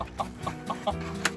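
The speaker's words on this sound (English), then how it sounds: "They all started clucking at me at unison." Several farmyard chickens cluck together in short overlapping bursts, close and fairly clear, with no talking.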